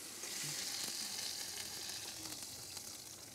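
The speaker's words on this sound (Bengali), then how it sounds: "এবার সতর্কভাবে টমেটো স্টেকটিকে ফুটন্ত তেলে দিচ্ছি।" A tomato steak slice fries in hot oil, giving a loud, steady, close-up sizzle with faint crackles and no voices.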